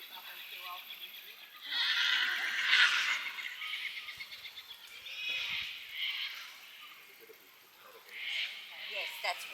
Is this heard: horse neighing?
yes